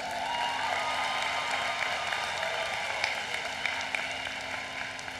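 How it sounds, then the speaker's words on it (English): Audience applause at the University of Maryland 2024 commencement ceremony, greeting a student speaker: dense, steady clapping from a large crowd that fills the hall for the whole stretch, with no voices over it. "Give her a round of applause."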